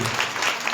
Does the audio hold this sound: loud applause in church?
yes